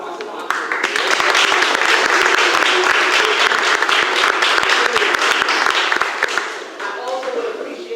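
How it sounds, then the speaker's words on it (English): An audience at a symposium applauding a sponsor, the University of Georgia, with dense, sustained clapping from a crowd in a hall that tapers off toward the end. "So please applaud one of our sponsors."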